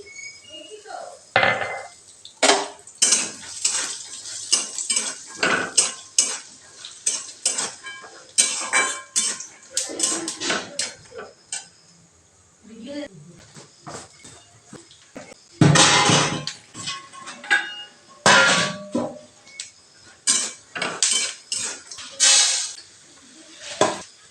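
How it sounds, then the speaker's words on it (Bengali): Peanuts roast in a hot pan with dried chillies, stirred with a utensil that scrapes and rattles in busy, irregular bursts of clinking and grinding over about twenty seconds, with short pauses between. "এর মধ্যে আমি 100 গ্রাম বাদাম দিয়ে দিচ্ছি।"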